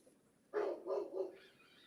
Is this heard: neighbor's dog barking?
yes